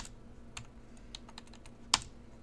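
Fast, irregular clicking of keys on a computer keyboard, close and fairly quiet, coming in short bursts with one sharper, louder keystroke near the end, and no voices.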